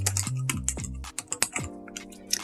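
Quick bursts of typing on a computer keyboard, a rapid run of crisp key clicks close by, with slight pauses between strokes and no talking.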